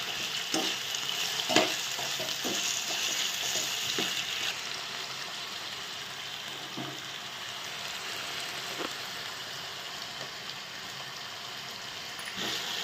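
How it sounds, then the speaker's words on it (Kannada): Cut potatoes frying in hot oil with a steady broadband sizzle throughout, punctuated by scattered clicks and scrapes of stirring; no voices. "ಆಲೂಗಡ್ಡೆ ಕಟ್ ಮಾಡಿ ಇಟ್ಕೊಂಡಿರೋ ಹಾಕ್ತೀನಿ ರೀ ಇದ್ರೊಳಗೆ. ಚೆನ್ನಾಗಿ ಫ್ರೈ ಮಾಡಂದ್ರಿ ಇದ್ರೊಳಗೆ ಎಣ್ಣೆ ಒಳಗೆ."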